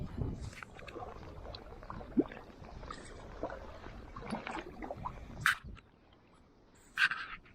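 A kayak paddling into wind and tide near Brownsea Island, with close splashes and water sloshing against the hull over a constant rush of wind, plus a few sharper paddle strokes toward the end.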